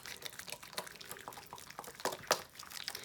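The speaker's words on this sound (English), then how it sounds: "one pump, add in some water to it." Water added to a pump of facial cleanser gives quiet, close liquid sounds, a few soft drips and splashes scattered across a few seconds.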